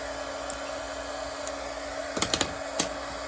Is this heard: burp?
no